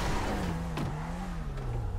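A car in GTA 5 Online accelerates, a steady engine drone rising then easing in pitch over two seconds, fairly close and loud.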